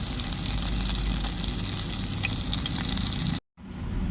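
Pomfret fish fries in a pan, making a continuous close sizzle with bubbling oil texture that breaks off in a brief silent gap near the end and then resumes, no voices.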